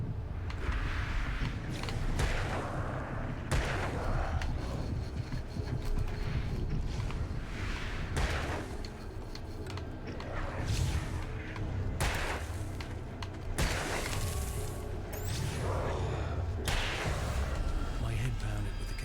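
Gunfire in the video game Alan Wake, with a string of sharp, loud shots at irregular intervals over a dense, rumbling background of game sound, with some speech mixed in.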